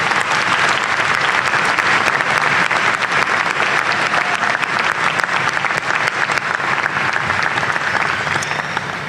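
Enthusiastic applause for graduates at a spring college commencement ceremony, a loud, continuous roar of many hands clapping that holds steady for the whole stretch.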